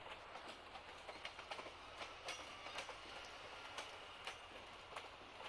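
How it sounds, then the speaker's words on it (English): Train coaches roll past on an evening line, a steady rumbling roar with regular clicking wheel beats over rail joints, close and continuous without talk. "Not a huge fan of the sounds these coaches make, but it's alright."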